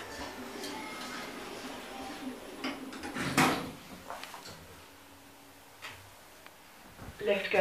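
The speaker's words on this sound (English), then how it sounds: "Doors closing." Doors of a 1990s Stannah hydraulic lift in a New Look clothing store in Basingstoke slide shut with a few knocks and a louder clunk midway, over store background noise and a faint voice.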